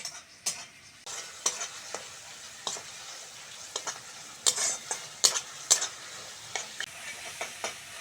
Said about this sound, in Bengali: সঙ্গে দেবো হলুদ লঙ্কা আর লবণটা মশলাটাকে এবার ভালো করে কষে নেব